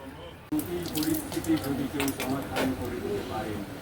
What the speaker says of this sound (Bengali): ভালো করে মুখ ধুয়ে নাও